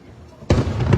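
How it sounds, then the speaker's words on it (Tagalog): Fireworks burst over the East River by Astoria Park in New York, one sudden loud blast after a quiet moment followed by rolling crackle and a second thump, heard from nearby amid a murmuring crowd. "Makita mo gid ang ang fireworks dito sa may Astoria Park."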